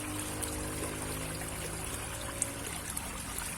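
Water gurgles and trickles steadily in a small stream beside a road, a continuous close babbling with a low hum of passing motor traffic underneath.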